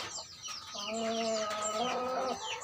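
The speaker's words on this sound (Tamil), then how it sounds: "ஒரு கோழி குஞ்சம் முழுசாக முழுங்குற கோழி" A hen that has swallowed a whole chick clucks and squawks in a strained, wavering call, close and fairly loud, rising into a sustained cry before fading.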